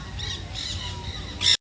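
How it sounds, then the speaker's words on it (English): Flock of green Quaker parrots at a playground in St. Petersburg, Florida, giving harsh, repeated squawks through a steady outdoor background, ending in one louder, closer burst. "there were so many green Quaker parrots"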